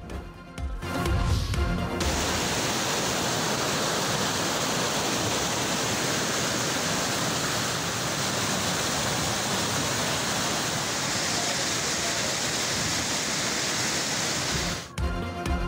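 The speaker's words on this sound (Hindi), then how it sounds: "इस्लामाबाद में शदीद बारिश" Heavy monsoon rain pours down in Islamabad, a loud, dense roar that holds steady for most of the stretch, with brief other sounds at the start and end.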